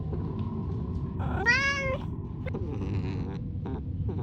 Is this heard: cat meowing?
yes